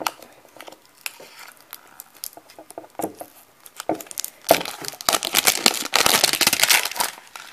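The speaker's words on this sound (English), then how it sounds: "Let's open up this tape." A roll of tape is opened for a milk carton plant pot craft, starting with light scattered plastic crinkles and then rising into a loud close burst of crackling and ripping, with no talk.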